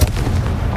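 A single loud Confringo fire-spell blast from the game Hogwarts Legacy, a heavy booming explosion rumbling steadily with no voice over it.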